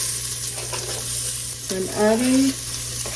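Onions, celery and sliced fresh garlic sizzle in a pan on a stovetop, a close frying hiss with a few stirring scrapes, while someone talks briefly over it and a steady low hum sits underneath.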